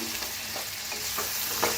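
Masala thinned with a spoonful or two of water is stirred and sizzles in a frying pan while cooking village-style brinjal curry, a steady close scraping and hiss with no voices.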